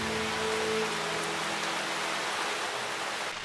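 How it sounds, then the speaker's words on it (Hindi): Heavy rain pours down in the Titipo Hindi cartoon episode, a dense, steady hiss of falling water throughout, with a faint low tone near the start and no talking. "बारिश बहुत तेज हो रही है।"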